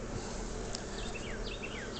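Honey bees at a top bar hive make a steady, dense buzz that fills the whole stretch, with a few faint high chirps over the constant hum.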